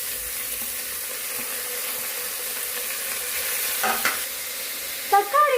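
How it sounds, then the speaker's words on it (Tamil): Tomatoes are dropped onto golden-brown fried onions for prawn biryani, with a steady sizzle of frying throughout and a couple of louder stirring scrapes near the end. "இந்த ஒரு ஸ்டேஜ்ல இது கூட நான் தக்காளியை சேர்த்துக்கிறேன்."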